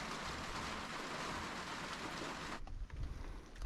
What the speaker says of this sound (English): That's definitely rain.